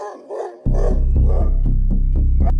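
Village dogs in a cartoon folk tale bark in a loud, rapid, close run of yelps and woofs, with one dog's growling barks overlapping the steady chorus.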